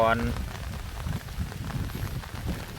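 Rain falling steadily outdoors, a dense patter of drops on surfaces close by, fairly loud and continuous throughout, with a brief tonal sound at the very start.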